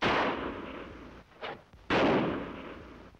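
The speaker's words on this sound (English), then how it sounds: "gunfire. Come from north." Gunfire in a western setting: two loud, close bursts of blast noise, each decaying over about a second, with a fainter crack between them.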